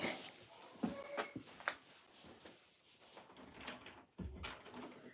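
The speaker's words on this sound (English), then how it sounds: "Let me shut this door real quick." A door is shut indoors, giving a few soft bumps and then a firmer thud near the end, over a quiet room background.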